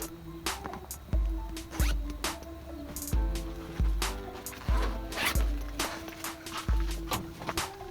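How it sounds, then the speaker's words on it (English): A zipper is pulled repeatedly in quick, rhythmic zips, each stroke loud and close, with short pauses between pulls. "All you have to do is unzip the zipper."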